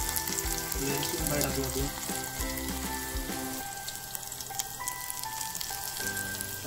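Cumin and garlic sizzle in hot oil for dal, a steady bright crackle that runs under a woman's brief spoken words, close to the pan.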